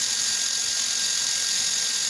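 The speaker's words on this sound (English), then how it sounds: "So we're using a step drill now on the center punch divot" A step drill bores into a metal shelf bracket, giving a steady high-pitched whine and hiss that runs unbroken and fairly loud from start to finish, with no talk.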